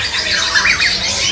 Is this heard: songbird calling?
yes